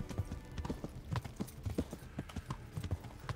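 Rhythmic hoofbeats of a galloping horse in the medieval video game Kingdom Come: Deliverance, a steady repeating clip-clop at moderate volume with no speech over it.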